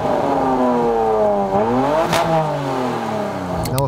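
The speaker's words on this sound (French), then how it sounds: "là, on va allumer la voiture" A car engine runs and revs loudly up close, the pitch sliding down then climbing again with a brief whoosh, a steady mechanical drone throughout.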